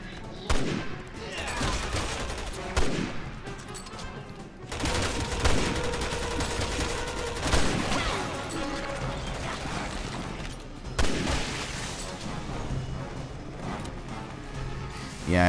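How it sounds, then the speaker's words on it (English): In Resident Evil 6, an automatic sniper rifle fires in sharp bursts of loud shots, with clanking mechanical game sounds in between. "I like the automatic sniper rifle so much better"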